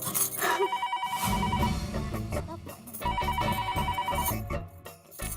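A telephone rings with a repeating electronic tone over a background of dramatic music, the ringing pattern recurring several times.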